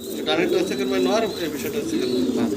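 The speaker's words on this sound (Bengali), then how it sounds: "একটা জোড়া দেখাচ্ছি রোমান গাল কবুতর" A pair of Roman pigeons at a pigeon farm cooing, a close, loud throaty burbling coo repeating over a short stretch with a voice talking alongside.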